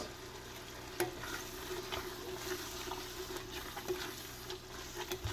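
Canned beans and carrot get stirred in a pan, giving a faint, low sizzle with occasional soft scrapes and taps of a utensil, quiet and continuous with no speech.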